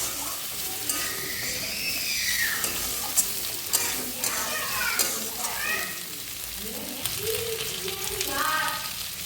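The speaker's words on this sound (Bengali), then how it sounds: "এবার ভেজে রাখার সবজিগুলো আমি দিয়ে দিচ্ছি" Vegetables fried earlier are tipped into a pan for a Kali Puja labra and stirred, giving a steady close sizzle with repeated spatula scrapes and clatters throughout.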